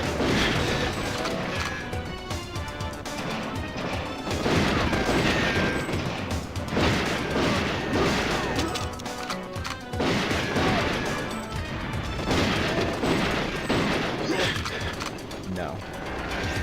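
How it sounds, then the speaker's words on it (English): Video-game explosions and crashing impacts from enemy rockets in GoldenEye 007, a dense, continuous barrage of bursts and mechanical clatter with no speech. "Have you ever seen this stage with enemy rockets?"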